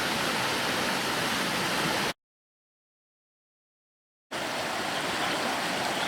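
Mountain creek running beside a gravel bar, a steady dense rush of flowing water, interrupted by a two-second gap of complete silence before the rushing resumes.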